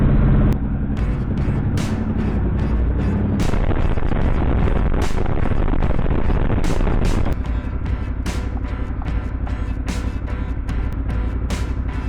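A motorcycle rides along an Arizona trail with a loud, continuous engine rumble, wind buffeting and scattered sharp bumps throughout.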